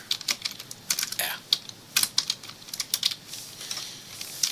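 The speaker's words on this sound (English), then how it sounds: "And we will type make-j." Quick, uneven keystrokes on a computer keyboard entering a short command, a crisp close run of clicks with brief pauses between bursts.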